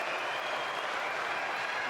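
Sustained applause and cheering from a standing crowd at a table tennis semifinal, a dense, steady wash of clapping with no break across the short moment.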